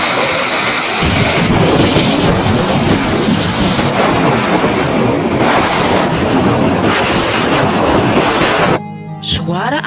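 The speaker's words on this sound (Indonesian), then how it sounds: "Tiba-tiba saja ada suara angin yang keras di rumah tempat mereka sedang" A loud, roaring gust of wind sweeps through continuously as a sound effect in a children's Bible story, dense and surging like surf, then cuts off abruptly near the end.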